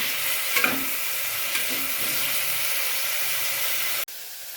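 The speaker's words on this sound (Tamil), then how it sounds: "தக்காளியை சேர்த்துட்டு நல்லா வதக்கிடலாம்." Onion and tomato sauté in a pan, giving a loud, even hiss of sizzling with a few stirring scrapes early on, then cutting abruptly to a quieter hum near the end.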